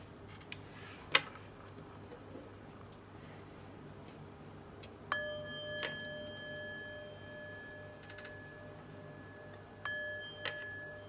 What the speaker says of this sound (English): But first, let's chime.